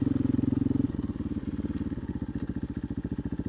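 A 2024 KTM EXC-F 500 TPI dirt bike with an FMF muffler and a tuned OEM ECU, a close, loud single-cylinder exhaust thumping in a rapid, even pulse that slows slightly and then holds a steady rhythm, with no talk.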